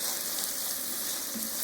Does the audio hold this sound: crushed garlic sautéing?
yes